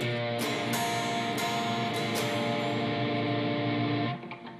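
A fairly quiet, gritty distorted guitar plays a passage of a blues-rock tune at full tempo, sustained chords with a few sharp attacks before it cuts off near the end.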